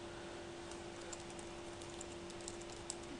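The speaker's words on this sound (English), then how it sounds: "Just typing that there." Faint, sparse keyboard clicks tap away over a quiet background hum, a few keystrokes at irregular intervals.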